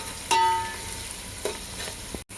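Onions browning in a pan hiss with a steady fry throughout, broken by a few brief stirring scrapes and clicks, fairly close and moderately loud.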